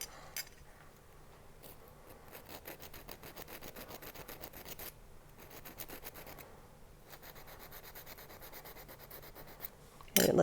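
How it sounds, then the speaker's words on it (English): A hand file rubs back and forth over a silver clay bezel wire piece, making steady, close scraping strokes in a continuous rhythm for about ten seconds before a louder knock at the very end. "And I usually use a hand file."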